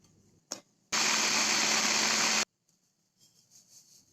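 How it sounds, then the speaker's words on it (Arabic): A food processor grinds plain biscuits into crumbs in one loud, steady burst of about a second and a half, preceded by a short click and followed by faint rattling. "وهحطه بقى في القطاعة او اي حاجة ممكن تطحنوا البسكوت فيها"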